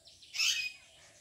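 A brief burst of bird chirping rises in the middle of a quiet outdoor scene, fairly close and clear, then fades back to a soft background hush.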